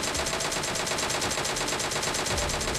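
A DP-28 light machine gun in PUBG Mobile fires a steady, rapid automatic burst of evenly spaced shots throughout, loud and continuous with no talking.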